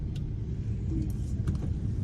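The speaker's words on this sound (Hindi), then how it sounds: "इस कदर ट्रैफिक होता है ना कि अगर आप कहीं पर निकल रहे हो ना कराची में" Heavy road traffic in Karachi heard from inside a car, a muffled, continuous low rumble with a few brief sharp noises, and faint voices in the background.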